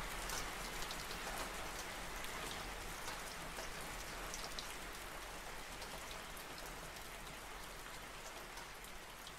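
Steady, dense night rainfall hisses evenly throughout, a constant wash of drops striking surfaces with no pauses or other sounds.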